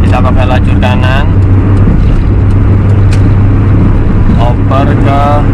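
A 2001 Hyundai Atoz accelerates on a toll road, a loud steady engine drone and road roar from inside the car, with someone talking over it at the start and end.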